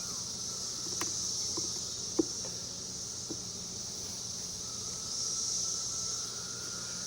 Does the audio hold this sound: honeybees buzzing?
yes